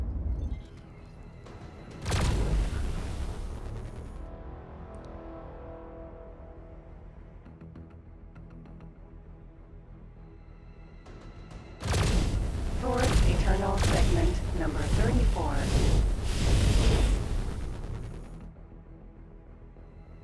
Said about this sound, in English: Continue explosions.